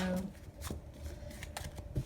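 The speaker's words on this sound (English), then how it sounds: "These cards are so... aren't really wanting to shuffle this way just because I don't use them as much." A stiff, rarely used tarot deck shuffled up close, giving rapid, uneven papery flicks and soft slaps over about two seconds.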